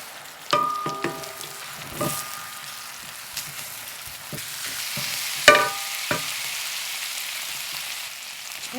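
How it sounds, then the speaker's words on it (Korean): Tteokbokki with chili garlic sauce, carrots and chili flakes stir-fried in a pan, with scattered clanks and scrapes of a utensil over a low steady sizzle, a sharper clatter midway. "이제부터는 볶습니다"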